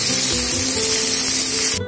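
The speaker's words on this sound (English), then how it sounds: "I will fry the pointed gourd or the potol." Pointed gourd (potol) sizzles and hisses in a hot pan, a loud continuous frying spray that cuts off abruptly near the end.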